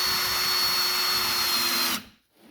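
A power drill whines loudly and steadily while driving screws into a wooden folding RV step, then cuts off abruptly near the end.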